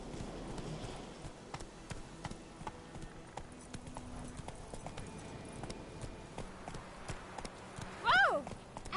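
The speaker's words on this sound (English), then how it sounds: "Slow now. Run, Roach." A horse in a video game trots with a rapid, steady clip-clop of hooves, fairly close, ending in a brief whinny, with a voice faintly audible underneath.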